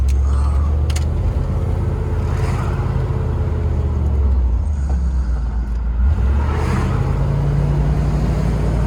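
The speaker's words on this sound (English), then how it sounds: "It kicked downshift immediately, brought us up to speed." A 1988 Range Rover Classic SWB with a 3.5 engine and automatic transmission accelerates from the cabin, its low steady engine drone rising after a smooth kickdown, with faint road rumble throughout.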